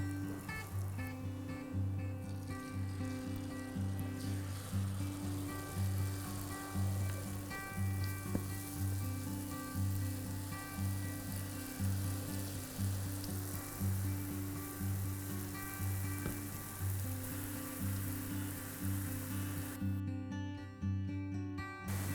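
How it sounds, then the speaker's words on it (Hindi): Jalebi batter frying in hot oil in a kadhai over a medium-high flame, giving a steady close crackling sizzle with gentle bubbling throughout, no talking. "ये जब हम जलेबी डालते हैं इसमें शुरुआत करते बनाते हैं तो आग तेज़ होता है"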